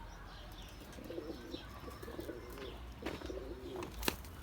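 Mardin pigeons in a loft full of young birds, cooing softly at a moderate distance in short repeated phrases, with faint chirps and a brief flutter near the end.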